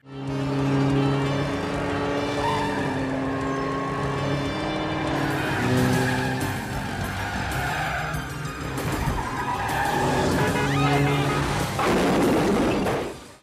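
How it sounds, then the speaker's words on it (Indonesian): In a Hong Kong film chase scene, a car accelerates hard after a taxi, its engine roaring loud and continuous with tire squeals, skidding, and dramatic music throughout. "Dia menancap gas mengejar taksi"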